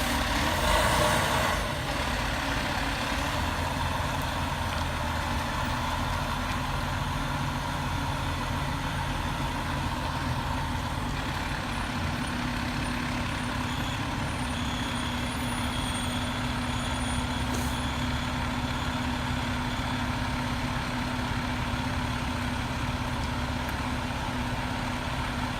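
A Pierce fire truck idles steadily at a townhouse fire scene, a continuous low diesel rumble running unbroken throughout with faint scattered background noise and no clear talk.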